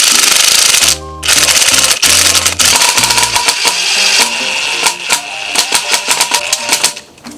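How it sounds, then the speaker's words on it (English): A chain breaker tool pushes the pin out of an old superbike's motorcycle chain, loud metallic ratcheting and clicking in quick repeated bursts, then a run of rapid irregular clicks, close and without talk. "as you tighten this bolt, the pin will push the chain pin out"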